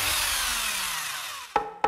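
A power tool such as an angle grinder or electric drill runs loud and steady, its pitch slowly sliding downward as it winds down, then two short sharp bursts close by, with no voices.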